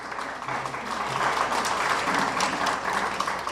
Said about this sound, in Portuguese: Também a nosso ministro Glamber Cruz, forte aplauso para a presença.